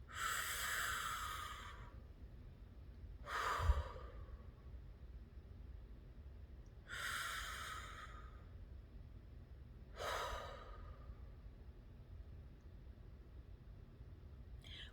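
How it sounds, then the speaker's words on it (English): Four slow, deep breaths repeat in a calm breathing exercise, each a soft airy inhale or exhale lasting a couple of seconds with long pauses between, close to the mic and quiet over faint background hiss. "Breathe with me."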